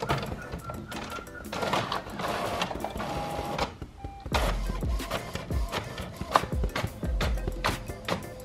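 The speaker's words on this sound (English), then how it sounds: "just making sure you check your printer before you start printing" A printer runs in a home shop, its rapid mechanical chattering and clicking in uneven bursts, with a short pause midway before the printing resumes.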